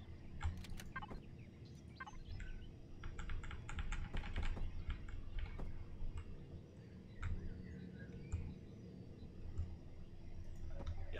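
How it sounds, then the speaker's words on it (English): Keys clatter on an Alienware computer keyboard in irregular bursts of quick clicks, close but fairly quiet over a low background hum. "Oh, shut up, Alienware keyboard."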